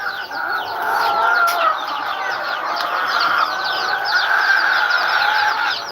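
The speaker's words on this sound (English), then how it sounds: "Once I'm done feeding these chickens" A flock of chickens on a farm clucking and squawking all at once while being fed, a dense, loud, continuous chorus of overlapping calls.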